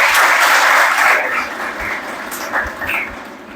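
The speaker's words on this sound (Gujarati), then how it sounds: "સર્વે તાલીમાર્થી ભાઈઓ બહેનોને આપણે તાળીઓથી વધાવી" An audience at a World Sanskrit Day celebration applauds trainees with a burst of close, dense clapping that is loudest at first and then gradually thins and fades.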